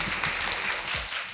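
A studio audience on a Korean talk show gives a short, dense burst of applause that stays close and fairly loud before easing off slightly.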